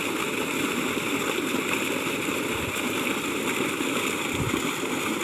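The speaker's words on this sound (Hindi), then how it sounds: "देखें बहुत ही ज़बरदस्त पानी आ रहा है माशाल्लाह।" Steady, full-band rush of water pouring from a 6-inch solar-powered tube well, a constant close gushing flow with no pauses.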